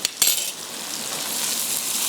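Spice masala of red chilli powder, coriander powder and garlic sizzles steadily in a hot pan, a couple of sharp clinks at the start giving way to a continuous loud frying hiss.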